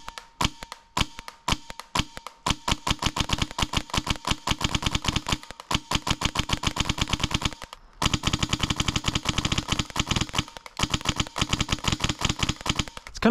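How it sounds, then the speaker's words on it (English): HPA airsoft gun fitted with a scythe trigger fires long, very fast strings of sharp cracking shots close by, with a few short pauses between bursts. "let's go ahead and test it out and see how fast I can really shoot with it"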